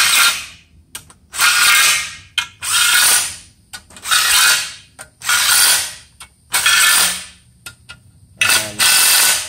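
Ratchet running in bolts on a flex plate during a 2003 Cummins engine rebuild, about eight loud rapid clicking bursts in a repeated rhythm with short pauses between, close up.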